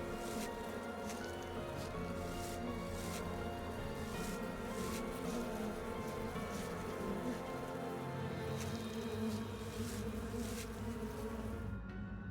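Flies swarm and drone in a horror dating video game, a thick unbroken buzz that holds close and steady for a long stretch, with faint ticks and crackles scattered through it and no one speaking.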